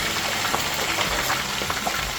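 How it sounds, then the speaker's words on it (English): Tilapia fish frying in hot oil in a home kitchen, giving a steady, loud, dense sizzle and crackle that fills the whole moment without any talk. "started frying the fish,"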